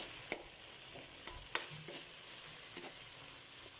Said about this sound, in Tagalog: Nagisa na po tayo ng giniling.